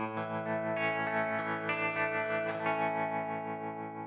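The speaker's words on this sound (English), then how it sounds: "has a tremolo added" An Enya Inspire smart guitar played through a tremolo effect, sustained chords ringing with shimmering, pulsing modulation and a new strum every second or so, steady and close with no voices.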